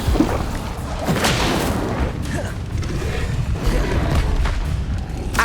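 Incendio fire spell cast in the Hogwarts Legacy video game, a dense roaring blast with booming, crackling bursts amid continuous combat noise and brief voice sounds.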